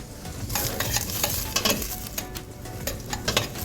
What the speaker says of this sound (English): You want to let this go for about 2 minutes to saute to get the caramelization on.